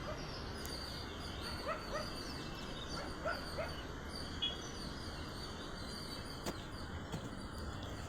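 Two dogs fighting and biting each other, with scattered yips, growls and short barks over a steady noisy background, fairly distant and not very loud.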